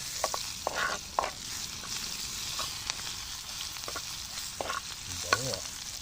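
Onions fry quietly in a pan for a simple breakfast dish, a soft, even sizzle broken by occasional light taps and scrapes of a stirring utensil.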